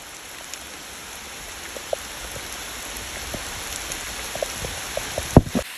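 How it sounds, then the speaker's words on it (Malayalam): Heavy rain pours steadily on a forest village, a dense, even hiss with scattered louder drips and a sharp knock near the end, no voices. "ഇവിടെ വന്നപ്പോ നല്ല മഴയാണ്"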